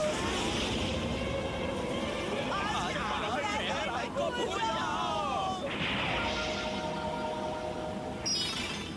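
A cartoon spaceship crashes in the Hindi-dubbed animated series Dinosaur King, making a loud, continuous rumbling roar with swooping whines and crashing noise.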